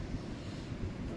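Light wind blowing outdoors in nature, a low steady rumble buffeting the microphone, faint and continuous with no talk.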